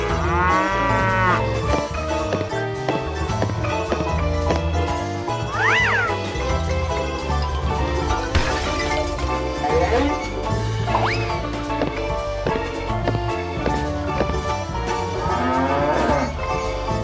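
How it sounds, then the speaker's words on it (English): A cartoon cow moos several times in a children's animated farm-animal scene, its drawn-out calls sitting over loud, busy background music with other playful animal sound effects. "cow"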